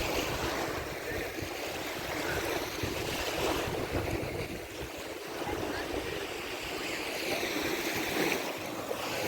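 Waves washing onto the beach of abandoned Varosha, Cyprus, a continuous broad surf wash with wind buffeting the microphone, steady and fairly loud with no talk.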